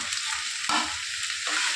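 Brinjal pieces fry in a pan, giving a continuous close hiss that swells into two louder bursts of sizzle as they are stirred.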